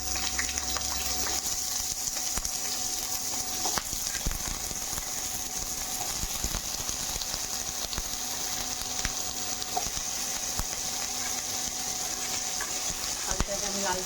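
Potatoes fry in a pan with five-spice seeds and salt for aloo posto, giving a steady, close broadband sizzle that runs unbroken, with faint stirring clicks and no voices.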